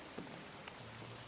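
Steady light rainfall patters on a surface, a faint, even hiss with a few soft drips, heard alone in a quiet radio-play setting.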